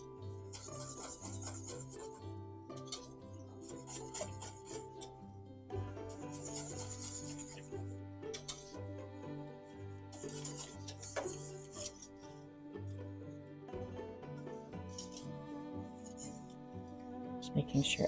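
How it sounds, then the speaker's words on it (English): Heavy cream being whisked into broccoli soup in a pot, a steady scraping and rubbing stir that repeats in bursts over a background of soft music. "you're just going to whisk that in"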